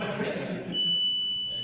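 A steady electronic timer beep rings out in a room during an Islamic religious lecture, holding one sustained high tone for about a second after a voice trails off.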